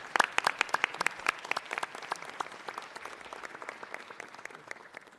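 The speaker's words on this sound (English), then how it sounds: "Let's give our filmmakers a round of applause again." Sustained applause from a crowd at a city council meeting, dense rapid clapping that stays steady and fairly loud throughout, with no talking.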